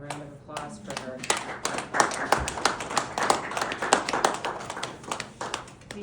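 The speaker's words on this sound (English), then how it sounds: "I'm going to start out a round of applause for her." A school class claps for a student after her autism awareness talk, uneven rhythmic hand claps from a small group close by, with some voices mixed in.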